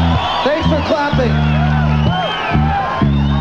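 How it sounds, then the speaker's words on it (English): Audience at Faith No More's 1995 Phoenix Festival rock show cheers and whoops in a dense, loud wash, with shouts rising over a low droning backdrop throughout. "clapping."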